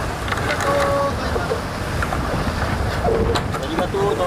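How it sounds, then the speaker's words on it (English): Wind and choppy waves rush steadily around racing sailboats out on open water in rougher weather, a dense, constant roar with faint voices mixed in. "We're definitely having a little bit more weather, a little bit more waves."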